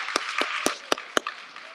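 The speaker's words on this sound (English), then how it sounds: "Give them a round of applause one more time." A handful of sharp, evenly spaced hand claps ring out as brief applause for youth groups at a Martin Luther King Jr. commemoration event in Carrboro, fairly close and without talk.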